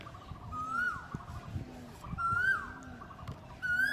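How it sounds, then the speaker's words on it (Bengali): An Asian koel calling from near a rooftop on a breezy spring day, a rising whistled call repeated three times at a moderate distance, with other faint bird chirps in the background. "ওই যে বসন্ত কোকিল ডাকতেছে"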